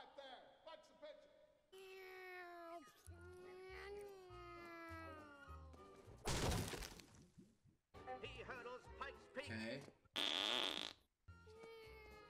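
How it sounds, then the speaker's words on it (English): A comedic fart blasts out in a YouTube Poop edit of the animated film Up, a short loud burst among cartoonish cat-like yowls, warbling voices and choppy edited sounds. "Funny fart."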